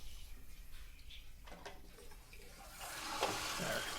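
Water bled out of a Toto Aquia II toilet tank during a fill valve replacement, starting as faint trickles and building into a louder steady running flow toward the end, with no speech.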